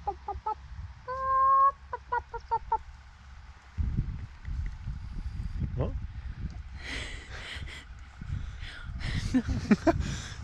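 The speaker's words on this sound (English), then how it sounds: "What do they sound like, chickens?" Chickens clucking and squawking close by, with honking fowl calls and scattered bursts of cackling over a low outdoor rumble.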